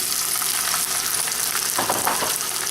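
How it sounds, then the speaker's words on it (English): Steady sizzling of garlic frying in hot olive oil, a dense crackling hiss that continues throughout with small bursts of popping, close and fairly loud, no voices. "I've got some garlic sizzling in some nice olive oil"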